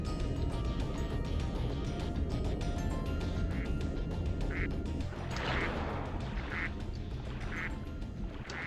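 Ducks quacking in the Spyro 2 video game's Mystic Marsh level, several short nasal quacks repeating over a dense, loud game soundtrack.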